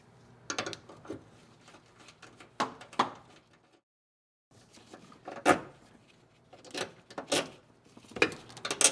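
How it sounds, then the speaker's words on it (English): A wrench works the power nut on a Ford alternator solenoid, producing sparse metallic clicks and ratcheting clacks in short bursts, with a quiet gap in the middle. "So remove the power nut here on your solenoid."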